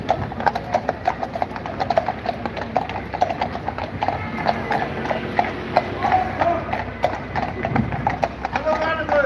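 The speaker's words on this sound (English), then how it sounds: "Never seen horses going down the streets in Cork in my life." A line of horses walks single file down a street in Cork, their hooves clip-clopping in a close, steady patter throughout while people talk nearby.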